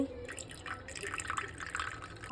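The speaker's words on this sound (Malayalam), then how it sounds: "കുറച്ച് പാല് ഒഴിക്കട്ടോ" Milk pours and drips into a pan, a steady trickle with light splashes, fairly close and soft, no talking.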